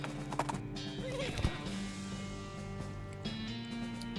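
Horse hooves clip-clop steadily in the West of Loathing video game, a continuous rhythmic clatter over a droning music bed, with no talk.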